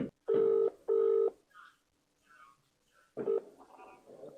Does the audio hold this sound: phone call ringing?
yes